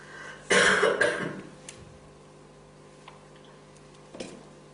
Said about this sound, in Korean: 오늘따라 또 기침이 많이 나는데 죄송합니다